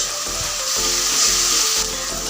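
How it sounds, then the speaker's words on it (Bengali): Onion, garlic and ginger paste frying in a pan, a steady loud sizzle with soft stirring scrapes running throughout, nobody talking. "আদা রসুন পেঁয়াজ দিয়ে সুন্দর করে একটু কষিয়ে নিয়েছি"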